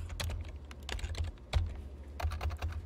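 Clicking keys on a computer keyboard, a quick irregular patter of taps up close with brief pauses, alone without talk.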